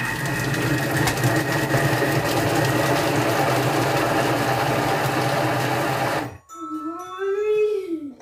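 A food processor mixing a brunoise of sautéed vegetables for five seconds at speed 5, a steady loud motor whir that cuts off abruptly, followed by a short whining tone.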